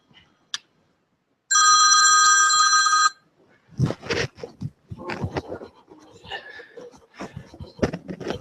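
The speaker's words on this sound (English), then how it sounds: "And I'm not going to answer this phone." A telephone bell rings once in a continuous burst of about one and a half seconds during a talk on prairie dogs, followed by scattered voices and room noise.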